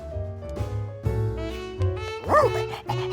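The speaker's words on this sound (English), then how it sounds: "And that's our new fire dog, Blaze." A cartoon fire dog lets out a few short yips and barks over light background music, with one higher rising whine near the end.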